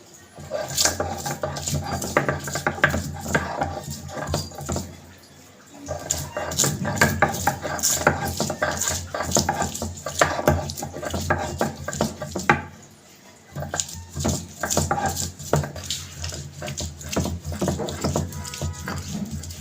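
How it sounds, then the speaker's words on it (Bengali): Onions being ground into a paste for shidol shutki bora, a steady scraping and rattling grind that runs for long stretches with brief pauses, loud and close, with some talking mixed in. "এখন আমি পেঁয়াজগুলো বেটে নিই।"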